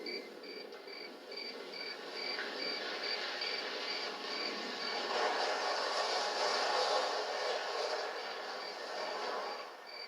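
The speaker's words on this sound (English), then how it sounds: "We hear crickets chirping and the crunch of gravel under the tires" Crickets chirp in steady, pulsing trills over a soft, continuous background rumble.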